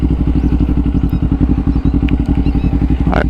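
Kawasaki Ninja 500 motorcycle engine idling and revving close by, with a steady throbbing exhaust pulse throughout and a brief rattle near the end.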